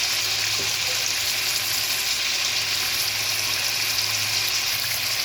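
Duck meat frying with a home-ground spice mix, a steady, dense, loud sizzle that carries on without a break, close by and with no voices over it.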